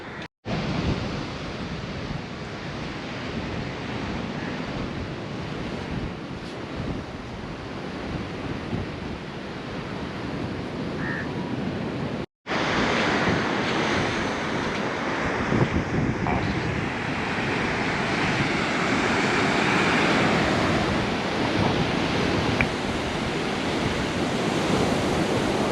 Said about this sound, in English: This is the Diamond Beach.